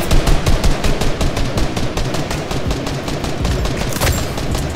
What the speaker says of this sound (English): Why would you shoot a rocket launcher?